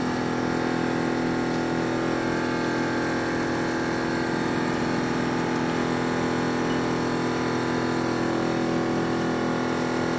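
An end mill climb mills annealed A2 tool steel with coolant flowing, giving a steady, loud machine drone with a constant hum and whine and no breaks.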